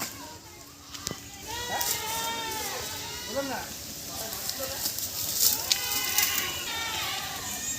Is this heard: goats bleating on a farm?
yes